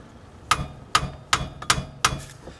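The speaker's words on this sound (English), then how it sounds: "tap with a hammer here to" Five sharp metallic taps from a hammer on a BMW E36 drivetrain part to break it free, spaced roughly evenly with a slight ring after each, close and fairly loud.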